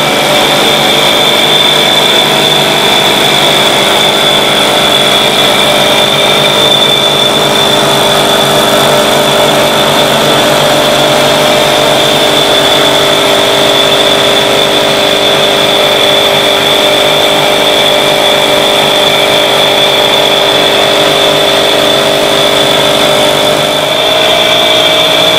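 A Solex 1700 moped engine idles on a test bench, holding a steady, even drone with a constant buzzing tone that barely changes throughout.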